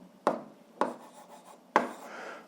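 Marker or chalk strokes on a board while algebra working is written out, three quick scratchy strokes about half a second to a second apart, close and fairly quiet, with no talk.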